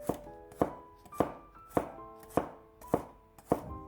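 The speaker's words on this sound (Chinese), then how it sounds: "几瓣去皮的大蒜切成蒜片" A knife slices through peeled garlic cloves on a cutting board, seven crisp evenly spaced chops with ringing board knocks, close and clear with no talking.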